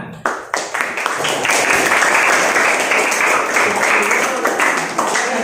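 Classroom applause for a student group: after a few sharp opening claps, a dense burst of many students clapping builds and holds, loud and close, with some voices mixed in.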